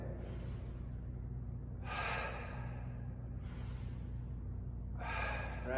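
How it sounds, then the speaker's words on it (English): Deep, forceful inhales during a strength and fitness class drill with chin tucked and chest up. Several long breath intakes come in a steady rhythm, close and fairly loud, over a constant low room hum. "And then big inhale."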